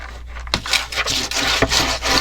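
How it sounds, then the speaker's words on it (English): Paper on a mini album cover is burnished by hand, a close, continuous dry rubbing with a few brief scraping strokes. "Just give it a little burnish."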